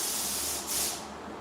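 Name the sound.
spray blaster spraying liquid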